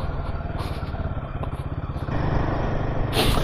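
A 2024 Royal Enfield Himalayan motorcycle engine thrums steadily while riding over potholed, speed-bumped roads, a close, continuous low pulsing that grows louder and rougher partway through.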